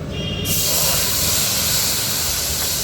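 Mustard and green chili paste hitting a hot pan for a Bengali fish curry with brinjal, a loud steady sizzle and hiss that bursts in after a brief quieter moment and holds close and continuous.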